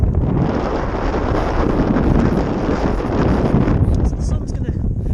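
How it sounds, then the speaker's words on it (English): Wind gusting across the open shore of Stickle Tarn in Langdale, Lake District, a steady loud rushing buffet on the microphone that holds throughout and eases slightly near the end. "wind's picking up a bit now"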